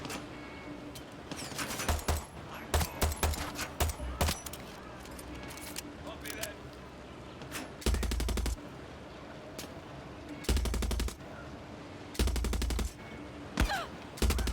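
Gunfire in the video game Far Cry 6 rings out in sharp single shots and short automatic bursts, loud and close, spaced irregularly across the stretch with quieter gaps between.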